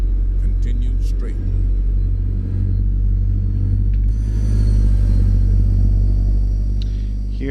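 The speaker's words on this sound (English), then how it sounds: "Here the different engines sound so different" A heavy truck engine rumbles deep and steady in a trucking simulator, its low exhaust drone swelling slightly as it pulls, while a voice talks over it throughout.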